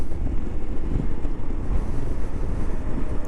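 Wind rushing past while riding a Moto Guzzi V85TT motorcycle behind its screen, a steady loud roaring buffet with deep rumble throughout, close to the microphone and without talk.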